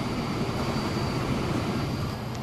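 A CSX freight train passing in Transport Fever, a steady broad rumble and rolling wheel noise with a faint high tone running throughout, constant and unbroken.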